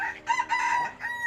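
A rooster crows close by in a Hmong village, a loud strained cock-a-doodle-doo broken into several bursts, with no talking over it.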